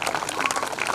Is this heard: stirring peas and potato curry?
no